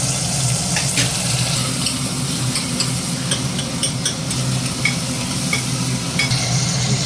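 Tomatoes sautéing in a pan for country chicken rasam, a loud, even sizzle close by with frequent sharp clicks and scrapes of a ladle stirring, continuous throughout without speech.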